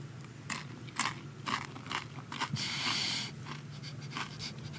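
Crispy chip eaten with som tam in Thailand: close, repeated crunchy bites about once a second with chewing between, heard up close and without talk.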